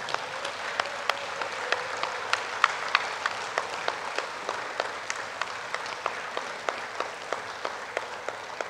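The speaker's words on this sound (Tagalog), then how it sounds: "Pumapalakpak po sila para po tumaas ang kanilang sweldo." Audience applause at a provincial government address, a sustained wash of clapping with distinct sharp claps ticking through it at a steady rhythm, moderately close.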